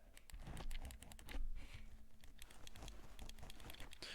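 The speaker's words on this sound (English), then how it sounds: "I upgraded the bumpers to be digital. So basically, these give a mouse click." Clicking of digital mouse-click bumpers on a modded Scuf controller, a rapid run of sharp, close clicks that come steadily and alone.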